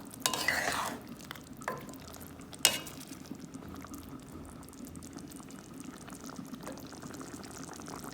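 Vegetables and chicken simmer in a pot for Chinese rice, a low steady bubbling murmur running throughout, with a couple of brief louder clatters near the start and a soft speech-like rustle at times.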